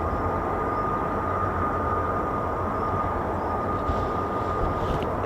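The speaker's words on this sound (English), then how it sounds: "F-15 Strike Eagles starting up now, or at least have started up" F-15 Strike Eagle fighter jets starting up at an air force base, a steady engine whine and rumble held level throughout, moderately loud and unbroken, with no talk.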